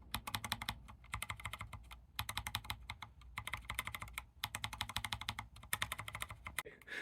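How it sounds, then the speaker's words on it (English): Keys on a budget keyboard fitted with Akko switches clack in rapid, steady bursts of typing with brief pauses between runs, close and crisp with no talking. "In goes the switch, and let's just put the keycap back on, the Y key, and let's see if that makes a difference alone."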